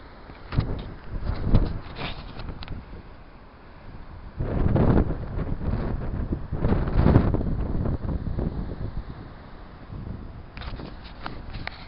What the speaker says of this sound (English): So windy today.